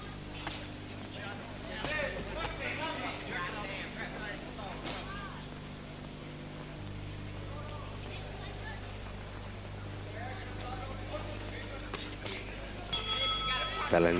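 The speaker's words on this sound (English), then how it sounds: "Bell ends round 3." Near the end, a ringing bell marks the close of a round in a boxing match between Crisanto Espana and David Taylor. It cuts through a steady arena murmur and commentary.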